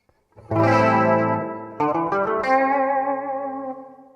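Electric guitar run through a custom-model rotary modulation effect, sustained chords swirling with a warbling, wobbling shimmer; a first chord rings out, then two more strummed chords layer on and decay, loud and close, with no voices.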